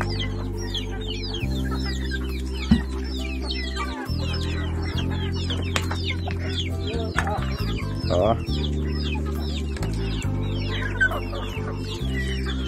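Chickens and chicks at feeding time cluck and squawk continuously as a flock, with layered calls close by over a low rumbling background and a brief spoken interjection.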